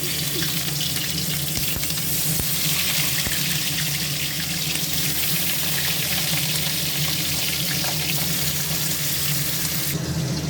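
Fish fry in hot oil in a wok, giving a loud, continuous hissing sizzle that holds steady close up for about ten seconds.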